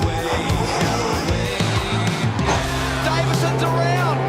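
Supercars touring race cars launch off the start line of a championship race, a loud roaring pack of V8 engines revving and shifting up through the gears with faint tyre squeal, under a commentator's excited talk.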